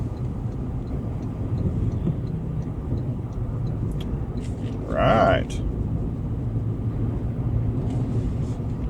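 A 2024 Toyota Land Cruiser cruising on a highway into a headwind gives a steady low rumble of road and wind noise throughout, with a brief spoken word near the middle.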